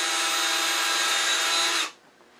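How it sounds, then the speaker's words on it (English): A power drill whines steadily at full speed, boring a hole through a wooden Easter bunny workpiece on a lathe project for about two seconds, then cuts off abruptly. "then I'm going to drill an appropriate size hole"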